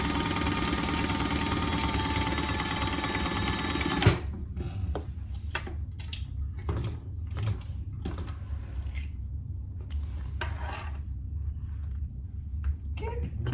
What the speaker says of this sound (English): I'm just doing an 1/8 inch top stitch on the bottom side.